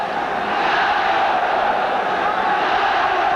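A large football stadium crowd cheers on China during a 1982 World Cup qualifier against New Zealand, a continuous distant roar filling the whole stretch at steady loudness.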